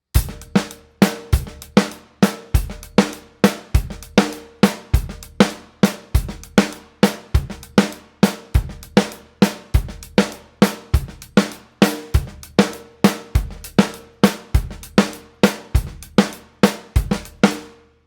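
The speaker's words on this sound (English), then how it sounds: "There's a few little ghost notes on the snare drum in between the hi-hat." A steady drum groove repeats evenly with punchy kick and snare hits, crisp hi-hat strokes, and soft quieter snare taps tucked between beats.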